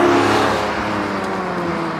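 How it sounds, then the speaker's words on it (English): A Lotus Emira, with an engine shared with a Porsche and tuned to 394 horsepower, revs loudly as it accelerates. Its strong layered engine tone starts at a peak and then settles into a sustained drone. No one speaks over it. "Listen to that. That engine."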